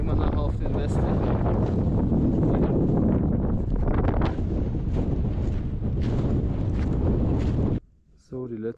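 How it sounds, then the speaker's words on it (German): Strong, gusty wind roars across the microphone on the Breithorn summit ridge above Zermatt, loud and constant, then cuts out abruptly near the end, leaving a short quiet tone. "Da geht ganz schön der Wind ab."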